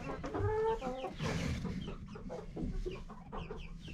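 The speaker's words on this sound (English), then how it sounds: "chickens that we hatched out in May" Young backyard chickens, hatched in spring, cluck and squawk close by in a series of short, varied calls with no talk.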